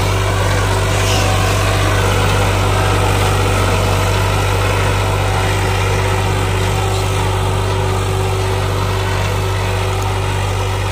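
An old tractor engine runs at a steady, even idle, a loud continuous mechanical drone with a deep low hum and no pauses.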